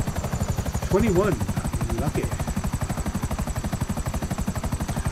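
A helicopter in GTA 5 Online thumps with fast, regular rotor beats throughout, loud and close, while someone says a short word over it.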